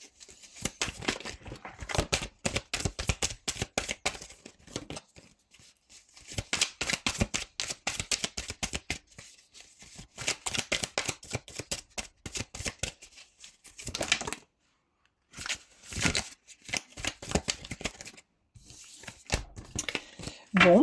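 Tarot cards being shuffled and handled in quick, papery riffling bursts that come in several runs with short pauses, close and fairly loud, with no talk over them.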